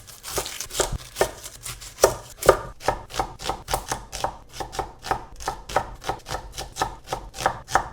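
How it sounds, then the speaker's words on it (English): Two onions being roughly chopped with a knife on a cutting board, a steady run of crisp, evenly spaced thuds at about two per second, close and clear with no talking. "I'm going to just roughly chop 2 onions"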